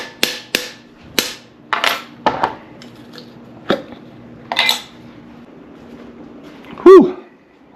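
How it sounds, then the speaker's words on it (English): A hot jar of Carolina reaper hot sauce is worked open with gloved hands: a series of sharp metallic clinks and knocks against the lid, scattered over several seconds, ending in a brief squeaky twist. "Alright, so let's crack this lid loose."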